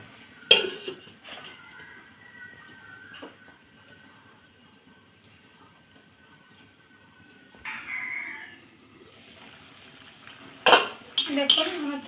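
A spoon stirs labra, a mixed vegetable curry, in a pot after water is added, giving sparse metallic clanks and scrapes between quiet stretches, while a rooster crows in the background.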